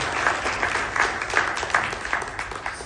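Audience at a political speech in Singapore breaks into a steady round of applause for the Indian Air Force, dense clapping from a large crowd that holds throughout without talk.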